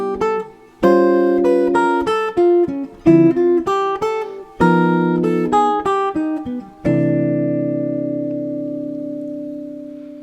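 Jazz guitar runs a 1-6-2-5 chord and line exercise full of triplet figures, clean single notes and chord stabs in quick phrases, ending on a long sustained chord ringing out alone.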